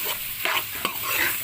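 Chicken samosa filling sizzles steadily in a pan, a continuous close frying hiss with a few spoon scrapes as it is stirred.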